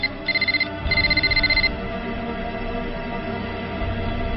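A telephone rings in two short repeated electronic bursts near the start, loud and close, then stops, leaving a quiet room tone; the ring comes from a scene in the Hindi-dubbed film Toxic.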